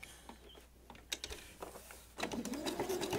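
A sewing machine stitches a seam in scrap fabric at a 3/8 inch seam allowance. A few soft mechanical clicks come first, then a steady, close motor whir with a rapid needle rattle carries through the last second.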